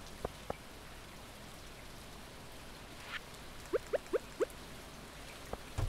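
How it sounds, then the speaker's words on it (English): Steady, soft hiss of rain falling continuously in the video game Stardew Valley, with a few faint droplet-like plinks scattered through it. "and it's raining, wonderful."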